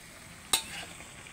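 Sautéed shrimp paste pinakbet gets stirred in a pan: one quick, sharp scrape of a utensil against the metal, followed by a soft sizzle over a low, quiet background with no talk.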